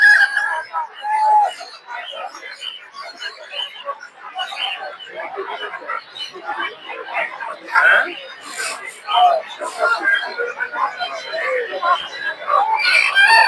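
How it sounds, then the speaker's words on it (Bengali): Many native chickens clucking and squawking together at a crowded poultry market in Tongi, with people talking throughout. "দর্শক দেখতে পাচ্ছেন যে অনেকগুলো দেশি মুরগি"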